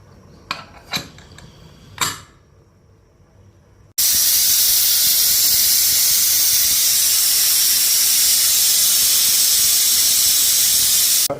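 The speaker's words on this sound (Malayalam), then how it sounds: "ഒരു എട്ട് വിസിലൊക്കെ വേണ്ടി വരും" A few sharp metallic clanks of cookware come first. Then a pressure cooker of beef curry lets out a loud, steady hissing steam whistle that runs unbroken for several seconds to the end.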